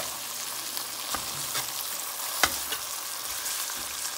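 Green tomato slices fry in a pan and are broken up with a spatula: a steady close sizzle with occasional soft scrapes and taps.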